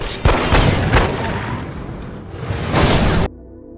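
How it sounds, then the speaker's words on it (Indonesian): Gunfire from a car in an action film crackles in a rapid, dense volley with sharp bursts and booms, loud and close, ending abruptly. "Opang pun langsung memberondongnya dengan tembakan"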